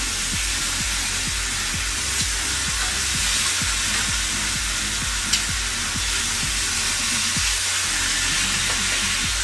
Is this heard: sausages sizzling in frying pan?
yes